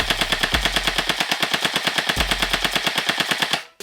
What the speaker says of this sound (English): Shooting right around 9 rounds per second, which is pretty good RPS for this blaster